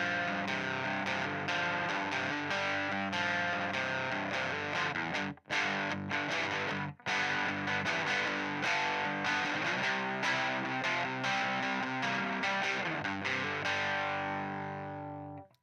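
An electric guitar runs through an effects pedal, giving a thick distorted, chorus-tinged tone; sustained chords ring continuously, broken by two brief silences, then fade out at the close.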